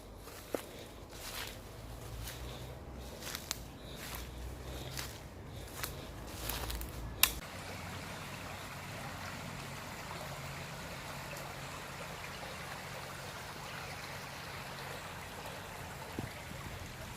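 A stream flows in a wooded village area in the Mendips, heard as a steady, soft running-water wash at a distance, with a few scuffing footsteps and rustles in the first seconds before the flow settles alone.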